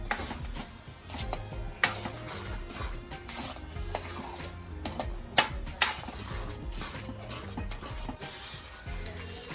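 Mushroom risotto is stirred and mixed in a pan over quiet sizzling, with uneven scrapes and clacks from the spoon against the pan as the ingredients are worked in.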